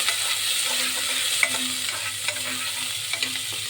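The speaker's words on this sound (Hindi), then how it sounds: "झटपट प्याज और लहसुन डाल के, और साथे में हम अदरको डाल डाले हमें" Onion, garlic and ginger fry in a hot pan, making a steady, close sizzle with small crackles and occasional scrapes of stirring and no voices.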